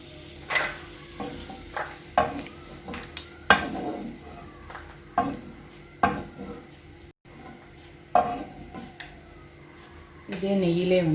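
Semolina roasting in ghee for pineapple kesari, stirred in a pan with a spoon: intermittent scraping and clattering strokes over a soft, low sizzle, with a voice speaking between the strokes.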